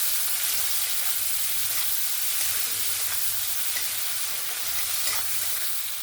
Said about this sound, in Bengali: লবণ দিয়ে ভালো করে নাড়াচাড়া করে নিয়েছি।